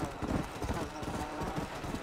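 Horse hooves clip-clop at a steady gallop in Red Dead Redemption, a close, continuous rhythmic thudding that stays loud throughout, with possible faint voices mixed in.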